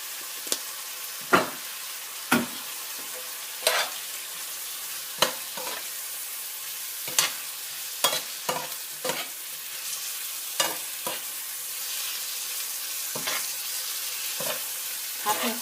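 Ingredients with black pepper are stir-fried in a hot pan for a kebab pizza topping, a soft continuous sizzle broken by repeated sharp scraping and tossing strokes at an irregular rhythm.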